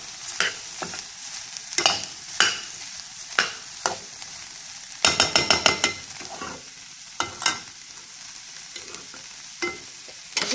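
A spoon stirs a pot of cauliflower and red lentil soup, giving close, sharp scrapes and clinks at irregular intervals, including a quick burst of rapid strokes, over a faint simmer.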